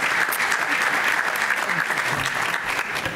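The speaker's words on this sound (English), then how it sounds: "Let's give her a round of applause" Steady applause from an audience at a school district recognition evening, clapping dense and continuous throughout, fairly close and loud with no talk over it.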